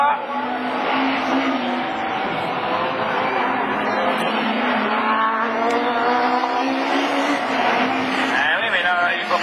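Rallycross race cars, an Audi A3 and a Peugeot 306, roar around the Lessay circuit in a continuous loud engine drone with shifting pitch and tyre noise, while a commentator talks over it.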